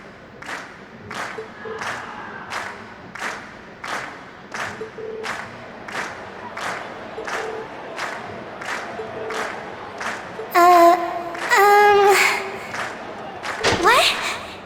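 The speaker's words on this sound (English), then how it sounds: "we've heard your cheers loud and clear" Crowd cheering and rhythmic clapping at a concert finale in the video game Trails of Cold Steel, with steady repeated claps followed by louder cheers and a burst of voices near the end.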